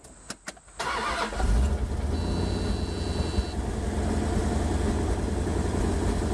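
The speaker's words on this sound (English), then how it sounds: "So I'll just turn the key and crank it up." An Automixer engine turns over with a few brief cranking bursts, catches, and settles into a steady, low, rumbling idle that runs on at an even level, nearby and with no talking.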